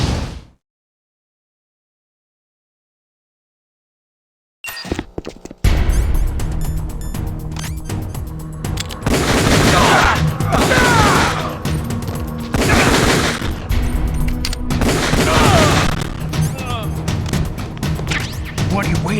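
Dense, loud bursts of gunfire and impacts from Metal Gear Solid: The Twin Snakes burst in after several seconds of silence and keep up a continuous, chaotic barrage to the end.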